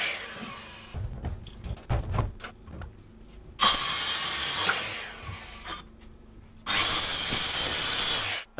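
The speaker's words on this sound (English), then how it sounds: "So I'll just unscrew this piece of timber like that." A power drill backs screws out of a piece of timber, running in two loud, sustained bursts of several seconds each, with clicks, knocks and handling noise of wood and tools between them.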